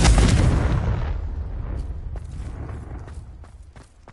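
Spell blasts from the Hogwarts Legacy video game, Incendio fire and Confringo explosive curse: a loud booming burst that decays over a few seconds, followed by faint scattered crackles and thuds.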